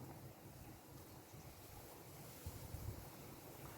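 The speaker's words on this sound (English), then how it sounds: "it's a windy old day" Wind buffets the microphone in low, gusty rumbles beside the River Wye, a steady blustery roar with a couple of stronger gusts toward the end.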